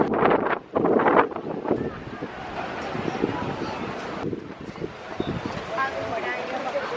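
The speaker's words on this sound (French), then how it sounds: "il y a un vent qui est monté là ces 2 dernières minutes" Gusty wind buffeting the microphone with loud low rumbling bursts, while people talk underneath.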